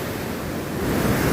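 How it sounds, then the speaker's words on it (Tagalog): Large ocean waves roll and crash near a fishing village shore, a continuous roaring surf with wind buffeting the microphone, swelling louder toward the end, no talking. "walang humpay na mga alon"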